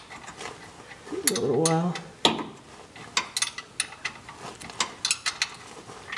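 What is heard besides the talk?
ratchet tightening during a Corvette C5 oil change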